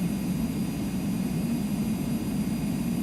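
Airliner reversing on a taxiway in Microsoft Flight Simulator, a steady jet engine whine and low rumble held at an even level, with no voices.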